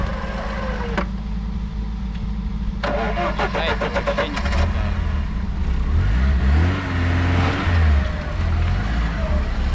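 A Lada Niva with a damaged transmission starts up and revs as it pulls away, its engine note climbing and swelling midway through, loud and close, with brief voices in the background.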